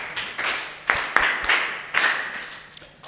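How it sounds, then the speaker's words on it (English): Students in a mathematics classroom clap together, several short bursts of applause rising and fading over a few seconds. "Clap yourselves."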